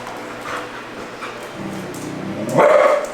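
A dog in a training session barks at other dogs' crates, with soft whines and a louder bark near the end, close by against a quiet room.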